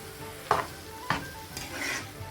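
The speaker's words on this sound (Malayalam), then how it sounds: "വെജിറ്റബിൾസ് ചേർത്തിട്ട് മസാല ഇതിൽ പരണ്ടിരിക്കുന്ന പരുവത്തിൽ നന്നായി മിക്സ് ചെയ്തെടുക്കണം." A spoon stirs sautéed vegetables through masala in a pan for a North Indian veg curry, with three distinct scraping strokes over a soft background sizzle, close and fairly loud, no voices.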